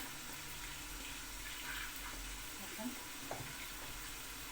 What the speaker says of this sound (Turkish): Çorbam kaynıyor arkadaşlar.